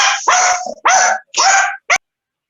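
A puppy near a phone in an online council meeting barks and yips up close, giving four sharp, loud barks in quick succession with short gaps between them, then falls silent.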